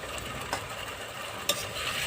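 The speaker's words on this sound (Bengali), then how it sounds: "এবার ভালো করে মশলাটাকে কষে" Spice paste with salt fries and gets stirred in a pan for egg curry, a continuous soft sizzle broken by sharp scraping clicks of the spoon.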